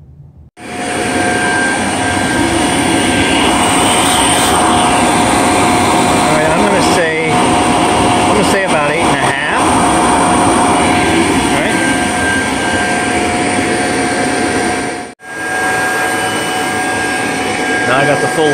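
A Dyson DC65 vacuum cleaner running at full hose length, a loud, steady roaring whoosh of motor and airflow that stays constant, with a brief dip partway through before resuming.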